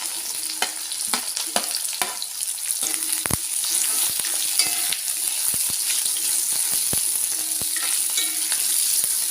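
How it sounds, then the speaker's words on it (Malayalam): Two sliced onions go into hot oil where mustard seeds have begun to crackle, giving a loud, continuous close-up sizzle broken by sharp scattered pops and clicks, with no talking. "അതിലേക്ക് 2 സവോള കട്ട് ചെയ്ത് ഇട്ട് കൊടുക്കുകയാണ്."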